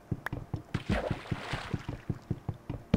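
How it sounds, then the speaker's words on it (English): Water splashing in the Minecraft video game, a quick rhythmic run of repeated soft splashes like paddling or swimming, close and fairly even in loudness, with no talking. "I heard a sploosh."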